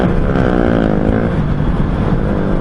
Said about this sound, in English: Damn, that bike is noisy.